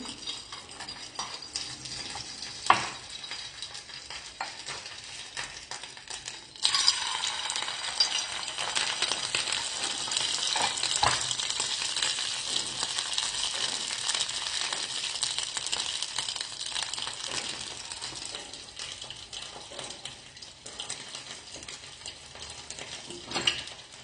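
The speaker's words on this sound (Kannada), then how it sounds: "ಇನ್ನೊಂದು ಸ್ವಲ್ಪ ಕಾಯಬೇಕು ತುಪ್ಪ" Ghee heating in a pan for traditional sutteu: a soft, steady sizzle that swells after a few seconds, with a sharp metallic clink early on and faint utensil scrapes, close and without talk.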